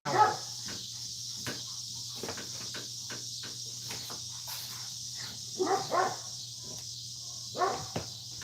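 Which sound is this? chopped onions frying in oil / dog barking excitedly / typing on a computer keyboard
dog barking excitedly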